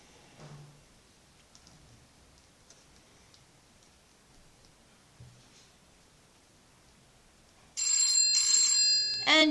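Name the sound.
phone ringing on Q50 GPS watch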